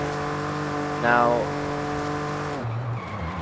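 A Cadillac limousine driving in Forza Horizon 5: a steady, humming engine drone whose pitch rises and falls and then drops at the end, with someone talking over it.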